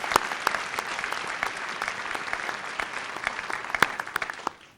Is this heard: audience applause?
yes